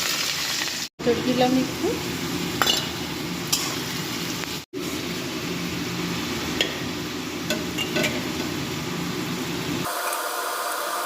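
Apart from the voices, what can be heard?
potatoes frying in oil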